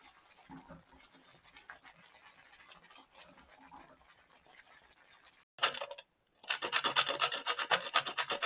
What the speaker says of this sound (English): which is our nutmeg. I'm just grating to add to our porridge.